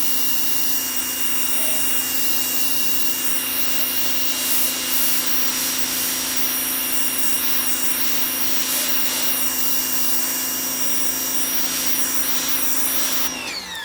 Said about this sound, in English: I'm using the 40-degree nozzle, which is the white nozzle, and we're going to take these bugs off